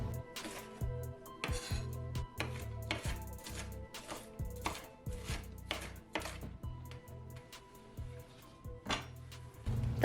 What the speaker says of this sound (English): And then I started slicing and I diced it up into small